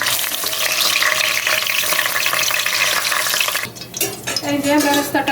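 Fried onions (beresta) lifted out of hot oil while making mutton kacchi, a loud steady sizzle of frying that drops off abruptly, then gives way to scattered crackles, scraping and splashes as the onions are scooped into a strainer.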